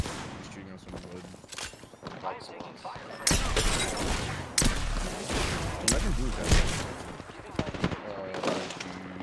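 Gunfire in a video game, with bursts of rapid shots and louder booming volleys. The shots are mixed with game noise and someone talking over them.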